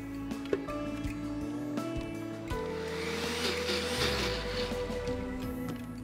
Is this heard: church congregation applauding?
no